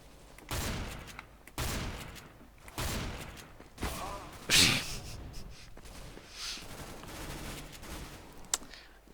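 Gunfire from Counter-Strike: Global Offensive played on a Steam Controller, several loud bursts and shots spaced through the stretch with a sharp crack near the middle, game noise throughout and no talk.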